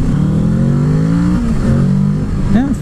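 A 2019 Kawasaki Z650 middleweight parallel-twin motorcycle held in third gear, its engine droning loud and close with a steady rising pitch, then briefly dipping and climbing again as it rides on.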